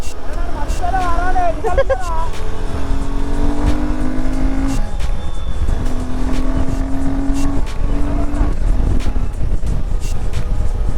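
A Royal Enfield Himalayan 450 motorcycle engine revs and pulls through rising gear changes while riding, steady road and wind noise throughout, with a voice speaking briefly over it.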